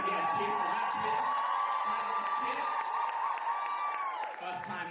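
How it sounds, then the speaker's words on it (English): A sold-out crowd of about 500 at a stand-up comedy special cheers, whoops and applauds loudly and steadily, easing off slightly near the end, with a voice heard over the noise. "Can I get a cheer for that"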